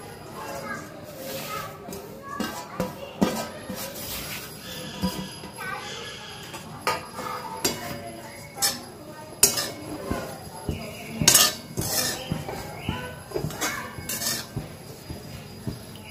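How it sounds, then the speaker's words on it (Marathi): Dry coconut roasting in a pan, with utensils clinking and scraping in repeated irregular bursts against the metal, close by, over a steady low background hiss. "आता सुके खोबरे भाजून घ्यायचे।"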